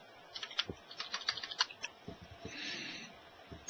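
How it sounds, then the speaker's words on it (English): Fingers tap out a server URL on a computer keyboard, a quiet, uneven run of light clicking keystrokes in a calm room, with a sharper final key press at the end. "just type in the URL for your server"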